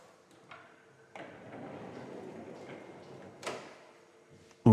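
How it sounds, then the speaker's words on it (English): An interior pocket door in a renovated house slides along its track with a soft, rolling rumble, then catches with a light knock as the soft-close mechanism eases it shut. "We'll go through the living room so I can show you the soft close feature of the pocket door."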